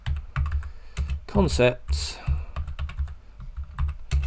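Clicks from a computer keyboard come in irregular bursts, with a microphone's wires draped over the keys. They sound close, under and between stretches of a man's speech.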